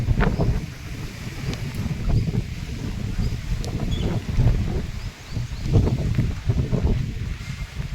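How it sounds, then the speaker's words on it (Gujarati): Strong wind buffets the microphone in continuous low rumbling gusts, rising and falling throughout, with faint rustling in the background, during a village rainstorm with light rain starting. "પવન પણ બહુ આવે છે"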